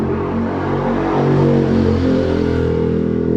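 Loud, close motorcycle exhaust revving with a steady throaty rumble that rises slightly in the middle, no voices present.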